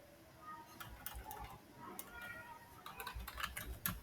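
Quiet typing on a computer keyboard while writing React JS code, a scatter of soft key clicks in uneven bursts over faint background noise.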